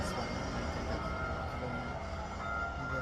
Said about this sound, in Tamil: பின்னாடி ட்ரெயின் வந்துடுச்சு, ட்ரெயின் வந்துட்டுருக்கு.